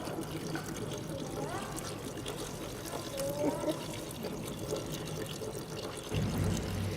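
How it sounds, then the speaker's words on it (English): Water, around a quart or more, pours into a soup stock pot of sautéed vegetables in a home kitchen, a continuous low gushing and trickle with some kitchen background noise throughout. "the most important ingredient in any soup stock will be water. So I'm going to add probably a quart or so, maybe a quart and a half."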